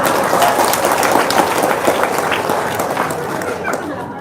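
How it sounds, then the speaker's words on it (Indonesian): An audience claps steadily throughout a seminar-style talk, a dense, continuous patter of many hands that stays fairly loud and slowly tapers toward the end. "Tepuk tangan dong."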